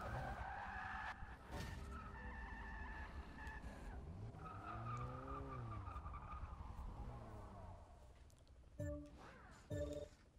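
Porsche racing car in the Forza 6 video game skidding with loud tire squeals, the pitch sweeping up and down over a steady engine roar, followed by a few sharper squeal bursts near the end.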